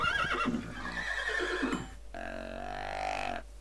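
Minecraft horse whinnying in the video game, a close, loud harmonic neigh that falls in pitch, followed by a second sustained, steadier whinny, with no talk over it.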